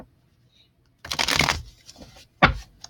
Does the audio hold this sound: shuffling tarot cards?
yes